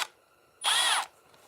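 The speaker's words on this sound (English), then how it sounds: "I'm gonna chuck the pin up in a little drill." A small drill spins up with a steady high whine for about half a second, spinning a pivot pin chucked in it while repinning a Ka-Bar folding hunter knife; close and fairly loud, then stops.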